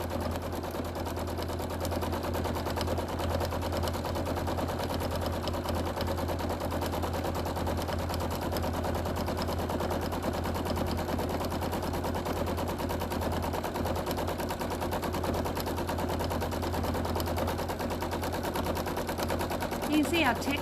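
A sewing machine free-motion quilts a background, giving off a continuous rapid rattle of needle strokes over a low motor hum, steady and close throughout, with faint speech at moments.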